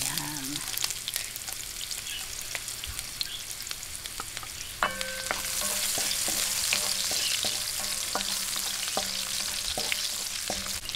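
Garlic, then ginger, sautéing in hot oil for a sweet and sour fish dish: a continuous dense sizzle that swells louder midway, with scattered utensil clicks and a steady tonal hum underneath.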